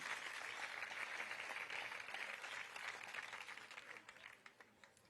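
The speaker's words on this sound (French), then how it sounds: "Vous pouvez applaudir les solutions et l'espoir, allez-y" Audience applause at a political speech, a dense wash of many hands clapping, steady at first then gradually thinning and fading toward the end.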